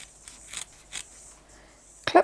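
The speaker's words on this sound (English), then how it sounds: "So take your scissors and trim this down a little bit." A few soft snips of scissors cutting fabric, spaced irregularly, close by and quiet, ending with a brief louder rustle.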